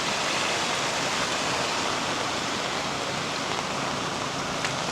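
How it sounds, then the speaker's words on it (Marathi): Steady rain falls on a farm during rice paddy transplanting, a dense, even hiss that stays constant and fills the scene with no pauses. "बघा पाऊस पण पडतोय, अजून चालूच आहे"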